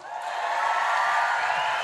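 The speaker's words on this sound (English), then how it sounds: "Let's have a round of applause for Newcastle." A studio audience at a talk sport radio show in Newcastle breaks into applause and cheering, a dense, loud wash of clapping and whoops that holds steady throughout.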